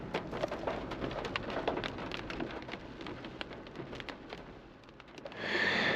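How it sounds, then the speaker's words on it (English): Heavy rain in rural Virginia pours down steadily with dense drops pattering close by, a continuous hiss that swells louder near the end. "nothing but rain"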